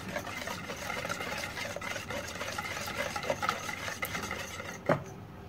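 Yogurt, vegetable oil and eggs being stirred together in a bowl for dill pastry dough, a soft continuous swishing and scraping at low volume with a small clink near the end.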